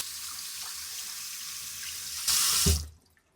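Water runs from a tap in a steady stream, wetting a makeup brush, growing briefly louder before it shuts off, leaving near silence.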